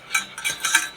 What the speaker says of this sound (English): We've got to whisk it constantly because we don't want that sugar